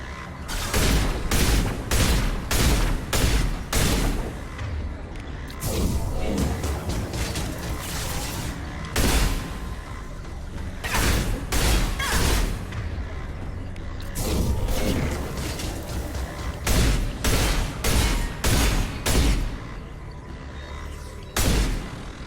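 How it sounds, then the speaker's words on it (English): Sustained gunfire in Mass Effect Legendary Edition, with rapid clusters of loud shots and impacts repeating across the whole stretch in uneven bursts, close and dense. "Oh, they're shooting me through the floor."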